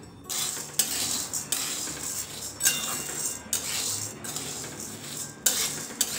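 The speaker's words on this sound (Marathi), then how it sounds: "आता चना डाळ भाजून घेते, ही पण आपल्याला सेम मंद आचेवरच भाजून घ्यायची आहे" Chana dal dry-roasting in a pan over a low flame, a spatula scraping and stirring in steady repeated strokes with light clinks against the metal, close and moderately loud, no talking.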